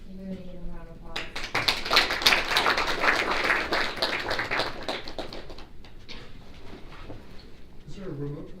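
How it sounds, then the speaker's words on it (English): An audience at a student government general body meeting applauding a guest speaker: a burst of dense clapping from a room full of people that swells, holds for several seconds, then thins out as voices return. "We're going to give him a round of applause."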